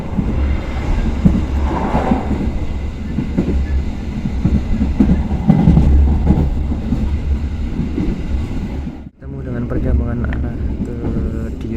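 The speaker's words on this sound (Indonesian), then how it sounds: "Kereta api Pasundan hanya berjalan kecepatan maksimalnya 90 km/jam" Pasundan economy-class train running on the rails at speed, a loud continuous rumble and clatter that cuts out sharply near the end and returns with a rougher, rattling tone.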